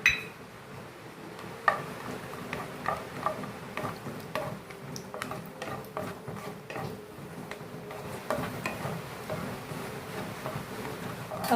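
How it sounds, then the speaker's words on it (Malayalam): Cashew nuts heat in ghee in a pan for banana halwa, giving faint, scattered ticks and light crackles that run steadily through a quiet kitchen. "ഇനി ഇതിലേക്ക് കുറച്ച് അണ്ടിപ്പരിപ്പിട്ടൊന്ന് ചൂടാക്കിയെടുക്കാം"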